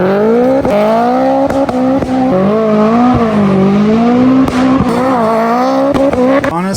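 A Mitsubishi Evo's engine is held high and revving for a clutch-dump launch. It gives a loud, close, wavering drone with sharp pops and bursts throughout, and there is no talking.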